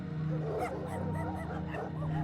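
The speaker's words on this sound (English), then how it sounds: "The dogs in the back of the truck bark with excitement." Several dogs bark and yip excitedly in the back of a truck, quick overlapping barks and whimpers close by over a steady low engine rumble.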